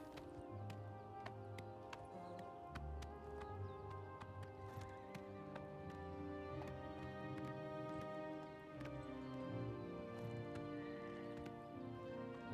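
A horse's hooves clop steadily on a slope in The Elder Scrolls IV: Oblivion, a regular rhythm of hoofbeats under a sustained tonal musical backdrop, moderate and even throughout.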